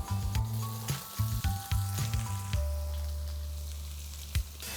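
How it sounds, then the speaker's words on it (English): Onion with ginger garlic paste sizzles in a tawa for chicken wings, a steady hiss with a few brief louder scrapes, alone and close, over a low steady hum. "I'm going to add ginger garlic paste and cook till the rawness of the ginger garlic goes away and onion are golden brown in color"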